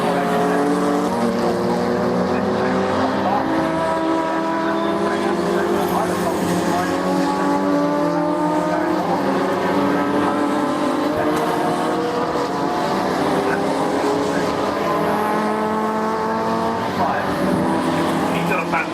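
Sports and saloon race cars pass at Oulton Park, their engines a loud continuous drone with rising and falling pitch sweeps as several cars go by close together, under a commentator's voice.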